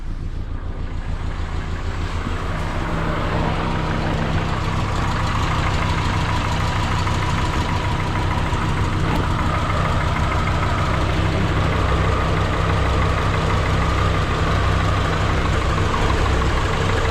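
A newly installed Subaru engine idles steadily and loudly on its own, a continuous low rumble with a faint knocking texture that holds even throughout.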